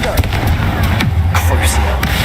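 Confringo fire spell cast in the Hogwarts Legacy video game, several sharp blasts and crackling impacts over a steady low rumble of battle, with a voice speaking in-game.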